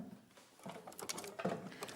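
Domestic sewing machine stitching a straight line across a quilted project before the binding goes on, a quiet rapid mechanical patter in short bursts, with a faint voice nearby.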